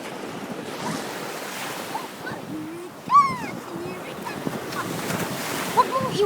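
Ocean surf at Sarasota beach washes in as a steady broad rush mixed with wind buffeting the microphone, with a few faint voices and a brief high call in the background.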